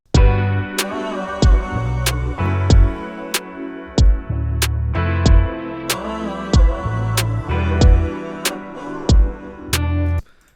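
Programmed basic drum beat with kick on one and three, snare on two and four and hi-hat ticking, steady mid-tempo pattern looping for about ten seconds, loud and alone.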